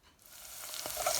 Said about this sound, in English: I am frying some onions with sunflower oil.